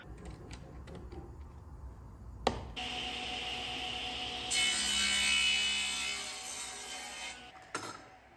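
A table saw cuts wooden coffee table legs held in a jig, a steady motor whine with a rising, rougher rasp as the blade bites, then a sharp stop; close and moderately loud with no talk.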